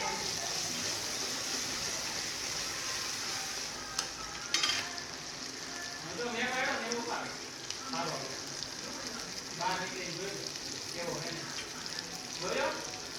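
Boiled pasta frying in a pan with sauce just added, a constant close sizzle with repeated scraping stirs that come in a loose rhythm over the hiss.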